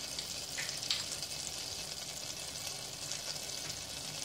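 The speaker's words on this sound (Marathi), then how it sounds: "आपलं पॅन इथे गरम झालेला आहे। यामध्ये मी 1 टीस्पून बटर घेते आहे।" Butter sizzles steadily in a hot pan, a continuous bright frying hiss with faint crackles, heard alone and close with no talking.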